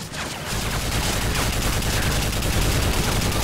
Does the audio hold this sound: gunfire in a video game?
yes